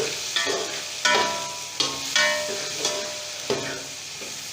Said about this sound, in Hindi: सबसे पहले हम हल्दी को डाल के अच्छी तरह भून लेंगे